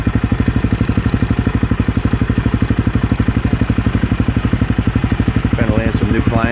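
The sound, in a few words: Honda CRF 250L motorcycle engine with FMF Q4 exhaust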